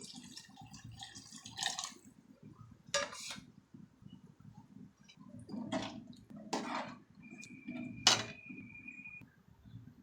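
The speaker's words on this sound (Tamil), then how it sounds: "இன்னும் கொஞ்சம் புளி காய்ச்ச தண்ணிங்க அதையும் இதோட சேர்த்துக்கலாம்" Tamarind water is poured into a pot of fish curry in a home kitchen, with soft liquid splashes and short clinks of a vessel and spoon coming in brief bursts against a quiet, faintly humming background.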